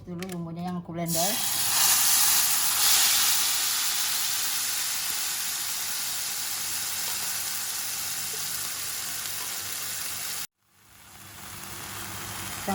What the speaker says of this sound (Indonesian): aku tumis dulu bumbunya yang aku blender